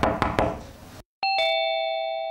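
A household doorbell rings once with a bright two-tone chime whose tones ring on and fade slowly, heard near and clear after a few sharp knocks on a door and a brief silence.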